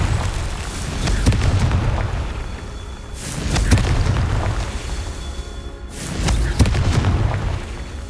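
A Confringo fire spell in the Hogwarts Legacy video game: three deep, loud booming explosions, each with a sharp onset and a rumbling decay, spaced a few seconds apart.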